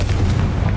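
Blast from the Confringo spell in Hogwarts Legacy: a brief, deep, rumbling boom that stays heavy and steady for under a second.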